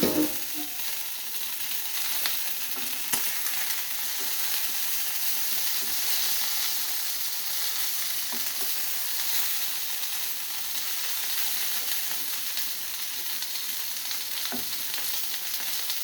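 Tilapia pan frying in oil, a steady close sizzle with occasional stirring clicks and scrapes, no voices.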